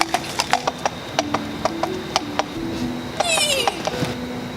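Horse hooves clip-clop in a steady, even rhythm as a steed is ridden, close and clear, with a brief whinny-like squeal near the end.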